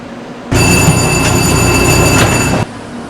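An East Coast bullet train arrives at a station in the Trainz game, a loud, steady rail rush with high whistling tones that starts abruptly and cuts off after about two seconds.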